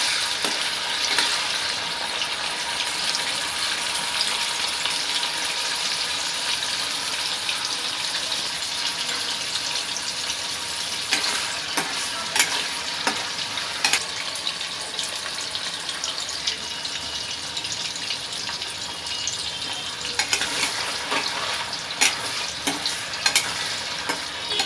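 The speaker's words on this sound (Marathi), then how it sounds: "थोड्यानंच पहिला फ्राय करून घेते। आपल्याला त्याला जास्त करपवायचं नाही आहे, सोनेरी रंग येईपर्यंतच त्याला तळून घ्यायचं आहे।" Paneer pieces frying in oil on a tawa until golden, giving a steady bright sizzle throughout with scattered clicks and scrapes from stirring, close-up and without speech.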